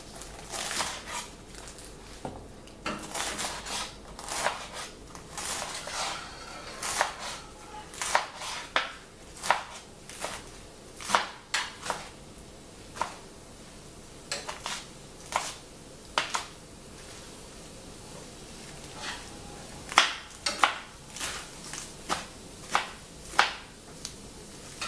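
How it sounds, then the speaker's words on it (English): A knife chops soft butterleaf lettuce on a cutting board, an irregular run of close, sharp thuds in bursts and pauses with no talking. "I'm going to chop the lettuce with another cutting board."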